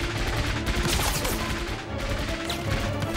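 Dense gunfire mixed with explosions rattles on without pause in a battle scene against Japanese soldiers aboard a boat, loud and close with crackling bursts and heavy booms.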